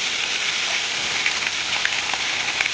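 Hilsa fish heads, each cut in two, fry in a generous amount of hot oil, making a dense, continuous sizzling hiss sprinkled with small pops and crackles, with no voices.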